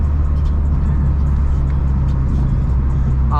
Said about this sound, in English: This exhaust is like the perfect amount of loudness that you'd want in a car